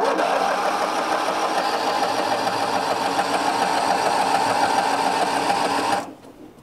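A Craftsman LT1000 lawn tractor with a Briggs opposed twin engine and no mower deck runs loud and close with a steady rapid chugging drone, then cuts off abruptly near the end.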